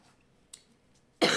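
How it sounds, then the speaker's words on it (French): A single sharp cough bursts out loud near the end after a brief faint throat sound, close to the mic with no talk around it. "Excusez-moi, je tousse, bien sûr."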